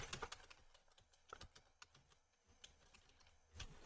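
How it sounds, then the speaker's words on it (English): Fast, irregular clicking of keys on a computer keyboard, close and fairly quiet, in short bursts with brief pauses and no talking. "Let me look this up. Pardon my typing."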